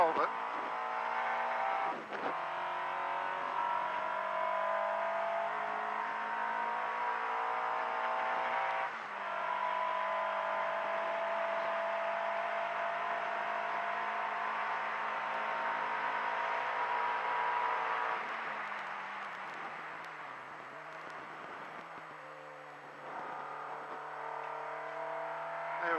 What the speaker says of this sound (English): Third gear is probably a little bit too low through here as well